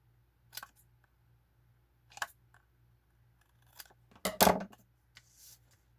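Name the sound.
scissors trimming paper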